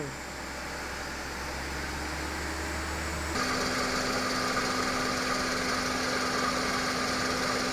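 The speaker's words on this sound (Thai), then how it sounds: "เสียงการทำงาน คอม แอร์ ถือว่าเงียบนะครับ" A second-generation Honda CR-V with 234,634 km idles with a steady engine hum, then the air conditioning compressor engages partway through and a fuller, slightly louder whirring drone continues.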